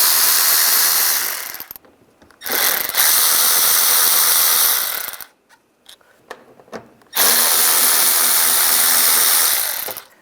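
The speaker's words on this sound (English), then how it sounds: "I'm going to use a T20 socket." A ratchet with a T20 socket is backing out bumper screws on a 1999-2005 Volkswagen Jetta. It sounds loud and close, with long continuous whirring runs broken by short pauses, a few quick clicks, and then another long run.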